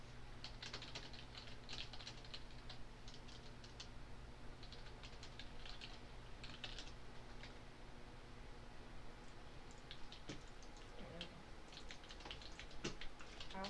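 Steady rapid typing on a bulky computer keyboard, dense clicking keystrokes at an even pace with occasional heavier taps, close and fairly quiet, no voices.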